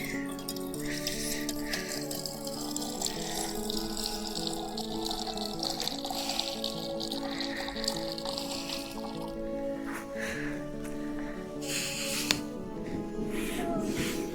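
Water pours and splashes from a can that is always used for water, at a forest tent campsite. It trickles and drips unevenly close by, with a busy background.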